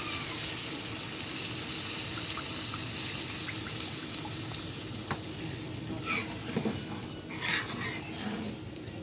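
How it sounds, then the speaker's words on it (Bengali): Steady sizzling and bubbling of a pan of dried-out spices after water is added, with a few clinks and scrapes of stirring, no voices. "তার পাশে একটু পানি দিয়ে দেবো কারণ এটা শুকিয়ে গেছে"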